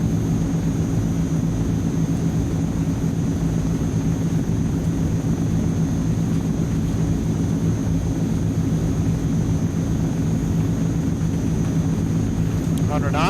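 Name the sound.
Transall C160 turboprop engines at takeoff power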